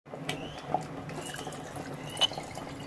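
Water is poured into masala in a pan while making a desi chicken curry, a soft, brief trickle with a few small splashes and drips, fairly faint, with no speech.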